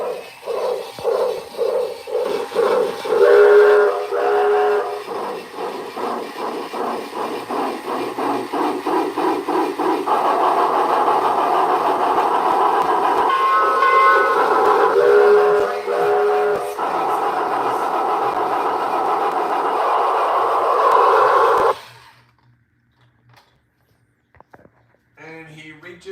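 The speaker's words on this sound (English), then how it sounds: "I couldn't hear you over the sound of my toy train." Model toy train running steadily on its track with a rhythmic clatter, sharp whistle toots rising over it at intervals, the running noise building before stopping abruptly near the end, followed by near silence.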